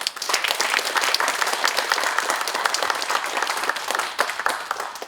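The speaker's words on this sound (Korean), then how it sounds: "여러분의 큰 박수와 함께 시작하겠습니다" Steady audience applause at the opening of an academic conference on the history of Bocheon-gyo's independence movement, hosted by Jeongeup City. The dense clapping of many hands runs evenly for about five seconds with no one speaking.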